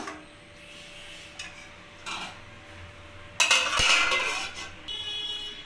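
A pan of kohlrabi and potato curry is stirred with a metal spoon, giving scattered scrapes and clinks, then a lid clatters down onto it with a loud metallic clank, all close by without talk.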